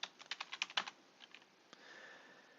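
Quick keystrokes clatter on a computer keyboard, a rapid burst of about a dozen taps, then a few more scattered presses, quiet and close.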